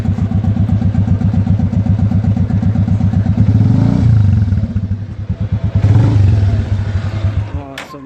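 An Indian motorcycle engine starts and runs at a steady, throbbing idle with a rapid, even pulse, loud and close, and briefly revs around the middle before settling and cutting off near the end.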